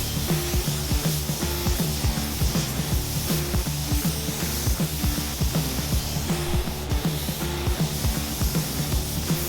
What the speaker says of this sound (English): I'm gonna get this stuff sprayed.